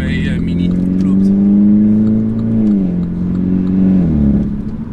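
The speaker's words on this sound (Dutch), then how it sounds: "Er zit dus een remers uitlaat onder, die hoor je eigenlijk lekker aanwezig." A modified MINI Cooper S JCW (Stage 2) with a Remus exhaust hums and revs steadily, its engine note rising and dipping twice, close and loud with a deep droning tone.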